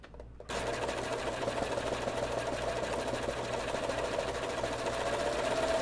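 A sewing machine stitches through thick layers of women's underwear fabric with a steady, close, continuous whirring hum that starts abruptly and runs without pause.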